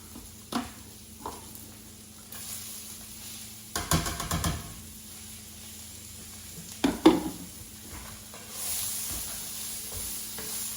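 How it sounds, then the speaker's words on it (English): Carrots sauteing in a pan for a sausage tomato ragu give a soft, steady sizzle, broken by a few sharp knocks and scrapes of a stirring utensil, with no talk. "Now we're going to go in with our carrots. We've been sauteing for about a minute, 2 minutes."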